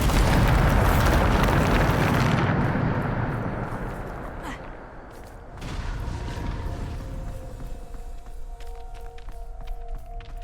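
A Bombarda spell explosion in Hogwarts Legacy erupts as a loud, broad blast that rumbles and fades over several seconds, then a second, quieter burst of noise follows under lingering rumble and faint tonal game sounds.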